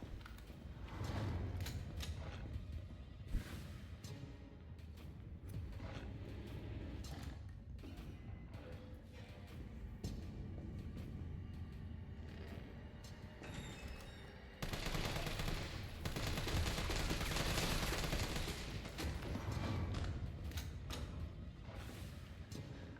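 Repeated gunfire in the Resident Evil 3 video game, with bursts of shots and mechanical clatter over a steady game background, growing louder and denser near the end.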